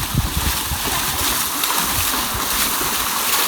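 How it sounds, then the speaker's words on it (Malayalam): Children splashing and playing in water during monsoon rain, a continuous busy wash of splashes and sloshing close by with some voices mixed in. "അവന്മാരിതാ അസ്ലാമുക്കൊക്കെ ഇതാ ചെക്കൻ്റെ മേത്തേക്ക് വെള്ളമാക്കിക്കൊണ്ടിരിക്കുക"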